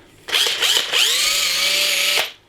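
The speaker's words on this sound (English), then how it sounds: "one of my favourite power drills, my DeWalt. I basically drilled a bunch of holes" A DeWalt power drill bores holes in a custom case, one steady high-pitched whine that spins up quickly and holds for about two seconds before cutting off, loud and close with no voices.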